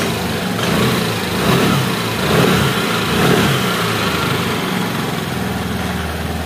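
A Vespa scooter engine runs loud and close as the throttle is raised from around 1700 rpm, giving a steady buzzing drone that swells gently a few times.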